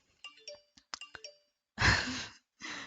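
A phone ringing with a short melodic ringtone: several quick chiming tones, followed by a louder breathy burst of noise and then a shorter one.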